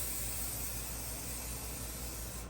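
Chrome spray paint hisses steadily from an aerosol can while trim from a Chevelle gauge is being coated, a close, continuous spray with no pauses.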